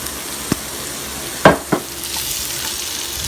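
Onions hit a frying pan still coated with steak drippings and browned bits, giving a few sharp scrapes and clatters followed by a rising, steady sizzle, close and fairly loud with no voices.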